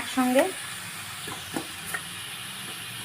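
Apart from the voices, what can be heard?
frying onion, tomato and beans in a pan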